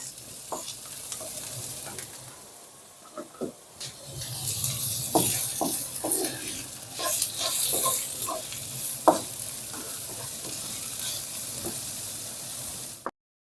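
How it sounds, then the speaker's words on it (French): Onions and smoked pork shoulder sautéing in a pan, with soft sizzling that swells louder midway as the meat goes in, scattered close clicks and stirring scrapes, and no talking. "Les oignons sont translucides, maintenant je vais rajouter ma palette et je vais faire revenir."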